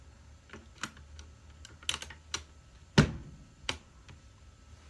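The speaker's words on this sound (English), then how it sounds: "let's try to pull off one of these keycaps here, which I have never done before" Keycap being pulled off a Ganss GS87 mechanical keyboard with brown switches: a series of sharp, close clicks and taps spread over several seconds, with one louder snap near the middle, against a quiet background.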